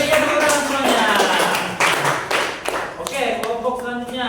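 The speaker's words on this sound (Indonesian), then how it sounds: "Oke, berikan tepuk tangan semuanya." A classroom group claps in bursts of scattered applause, with voices chattering over the clapping throughout.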